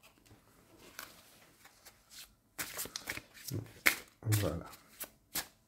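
Tarot cards are drawn and shuffled in several quiet, separate bursts of soft riffling and slapping, close by, with someone speaking softly between them.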